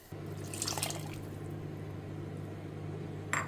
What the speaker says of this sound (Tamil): இப்போ புளிஜலம் குத்திடலாம் கொதி வரட்டும்